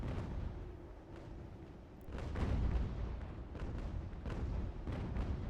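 Cannon artillery fire in the strategy video game Ultimate General: American Revolution, a run of booming shots and rumbling blasts layered over a continuous battle din, with a heavier burst of fire midway.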